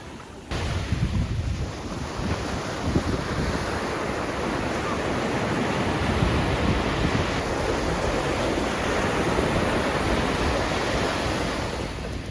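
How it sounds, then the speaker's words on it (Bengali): Sea waves breaking on the beach at Puri, a continuous loud wash of surf mixed with strong wind buffeting the microphone, steady throughout with no talk. "এই প্রথম দিনে কিন্তু আমরা সমুদ্রের এই সুন্দর দৃশ্য উপভোগ করছি"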